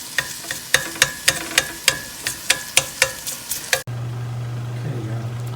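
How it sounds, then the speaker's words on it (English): Anchovies and bacon are stirred in a frying pan, a utensil scraping and clacking against the pan in about a dozen rhythmic strokes over steady sizzling fat, then the stirring stops and only a sizzle and low hum remain. "Now I'm just going to stir them in with everything else."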